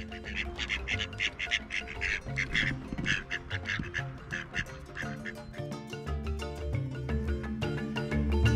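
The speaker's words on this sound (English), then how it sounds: "I'm attacked by a marauding mob of ducks" A mob of ducks quacks loudly and close by along a long-distance footpath, with dense overlapping quacks and honks throughout.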